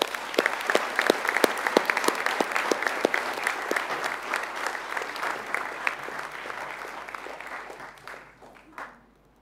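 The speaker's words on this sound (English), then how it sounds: "a big round of applause" A crowd applauds steadily with dense, continuous clapping that fades out toward the end, leaving near silence.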